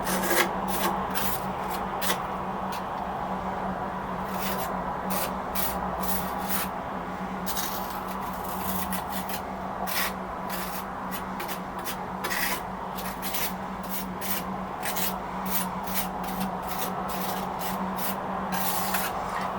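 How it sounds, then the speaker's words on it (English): A palette knife scrapes across a textured ceramic medium layer on an abstract landscape painting, a steady close rasping with quick repeated strokes, continuous and quiet with no talking. "I'll just let you listen to the scraping for now."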